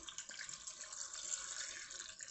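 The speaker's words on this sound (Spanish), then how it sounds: "Añadimos bien de agua que cubra" Water pours steadily into a cooking pot for a chicken stew, a continuous splashing rush with no breaks and no talk.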